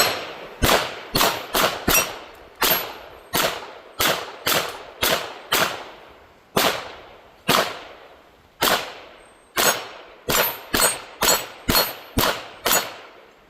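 Taurus TX22 Gen2 .22 pistol fired one-handed at a range, about twenty sharp cracks at an uneven pace, several quick doubles and triplets separated by short pauses, each shot ringing out briefly, no talk.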